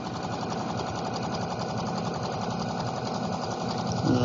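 A sewing machine runs continuously while stitching the side seam of a fabric pouch, its rapid, steady mechanical chatter close and even throughout.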